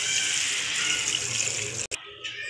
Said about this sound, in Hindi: पानी ऐड कर लिया है मैंने इसके अंदर